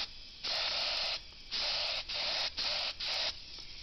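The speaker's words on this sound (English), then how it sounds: "this paint can spray out of it absolutely perfectly" Paint spray gun coating an auto door handle, giving four bursts of soft, steady hiss of about half a second to a second each, separated by short quiet gaps.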